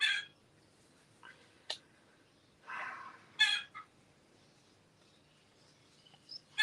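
A hen clucks and squawks in faint, scattered calls at a distance, separated by quiet gaps.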